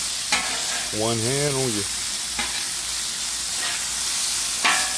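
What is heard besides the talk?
garlic frying and being stirred on a Blackstone griddle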